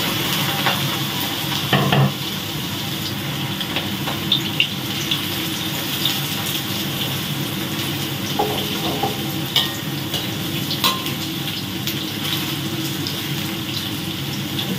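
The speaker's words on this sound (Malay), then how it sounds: "Kita goreng tempe kita dulu lah." Tempeh frying in a pan sizzles steadily and close up, with occasional scrapes and clinks as it is stirred, and no talking.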